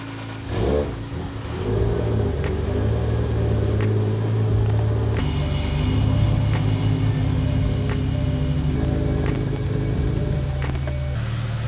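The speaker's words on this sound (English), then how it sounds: "I'll move the Supra back" A Toyota Supra being moved in a garage or driveway, its engine starting and then running steadily with a low rumble and occasional revs, loud and close, with no talking.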